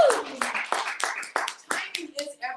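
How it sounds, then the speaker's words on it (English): A small group claps in scattered, uneven bursts at an event, fairly near and fading out over a couple of seconds, with a voice briefly audible at the end. "Give her a round of applause."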